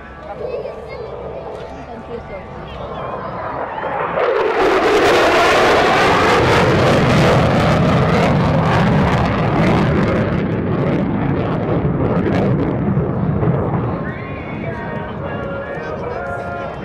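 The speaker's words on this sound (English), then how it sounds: "from behind to the right, the F-16 Viper demonstration team proudly presents the dedication pass" F-16 Viper fighter jet roars loudly overhead on a dedication pass at an air show, the engine rumble swelling and then fading as the jet passes, with an announcer's amplified voice heard along with it.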